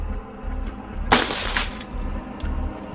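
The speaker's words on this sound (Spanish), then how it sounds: "escuchó el estruendo de los vidrios rompiéndose en la sala de estar" Glass windows in a living room break and shatter in a horror story sound effect, one loud crashing burst with a trailing tinkle of falling shards, followed by a smaller clink.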